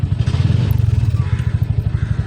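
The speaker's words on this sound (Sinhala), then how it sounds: "ඔන්න ඔය විදිහට වාහන ස්ටාර්ට් වෙනවා." A 2026 Bajaj EFI auto rickshaw engine starts and settles into a steady, rapid putter, close and loud, with a light mechanical clatter over the pulsing idle.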